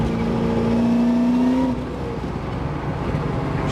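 An LSA-swapped Camaro accelerates at part throttle with its wheels spinning. The engine note climbs steadily as a close, loud drone, then drops away after a couple of seconds.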